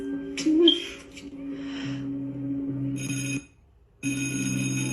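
A cell phone ringtone goes off in a classroom with repeated electronic tones in two bursts and a short silent gap between them, loud and close over background noise.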